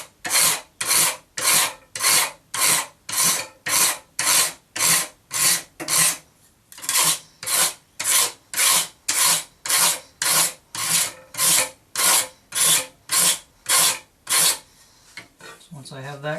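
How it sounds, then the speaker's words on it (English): A hand scraper works along a wooden decorative backstrip clamped down, making about twenty-five steady rasping strokes in an even rhythm, close and loud, with no talking over them. "take your scraper and go away from your clamp"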